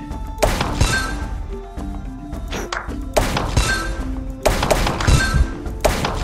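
Heavy, repeated thunks of cannonballs firing in Zuma's Revenge, each a sharp percussive hit with a shattering crack, in rhythmic bursts roughly every second against a bed of game music.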